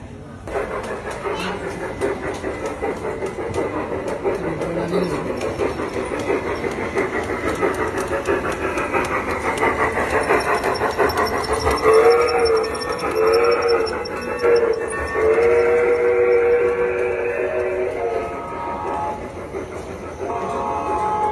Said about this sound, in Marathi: आता आपली ट्रेन येते इथून